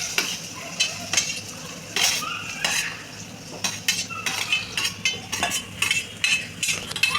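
Finely chopped onion sautés in hot oil for a dry chicken dish with tomato. A soft sizzle runs under repeated metallic scrapes and clinks of stirring against the pan.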